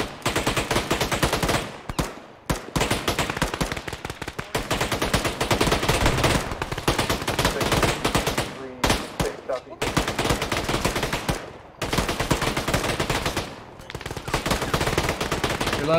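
Dense gunfire rattles through an Arma military simulation firefight around a bunker system, with sustained automatic bursts and rapid shots packed closely together and only brief gaps, loud and near throughout.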